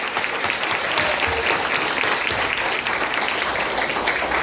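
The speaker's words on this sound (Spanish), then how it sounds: "Por favor, démosle un gran aplauso a esta familia increíble." Loud, dense applause from a church congregation honoring a family, a continuous roar of many hands clapping close by without letup.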